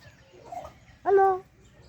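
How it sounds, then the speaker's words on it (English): An African grey parrot lets out a short, bright whistled call, close by, over low background rumble and faint ambient noise. "So in here we have the African grey parrot."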